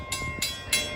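An NJ Transit train rolls past a railroad crossing at Hollywood Boulevard in Ho-Ho-Kus/Ridgewood, with wheels clacking over rail joints in a steady beat of three close, hissing bursts under a continuous rumble.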